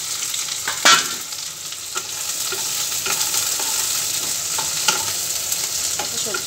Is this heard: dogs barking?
no